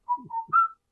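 A person whistles three short, clear notes in under a second, with the last note a little higher and held longest. The whistling is close and alone.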